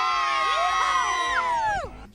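Excited crowd cheering and whooping together at an outdoor Music in the Park community event, a loud sustained burst of many voices, including high children's shouts, that fades out near the end.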